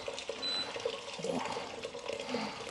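Freshly boiled water from a kettle pours into a pasta pan in a home kitchen, making a steady splashing, gurgling rush for a few seconds with no talk over it.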